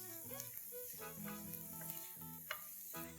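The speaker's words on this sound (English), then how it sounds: "So the garlic has started to sizzle." Garlic and red chilli flakes sizzle in a hot pan as they are stirred, a steady close crackling hiss with scraping from the stirring.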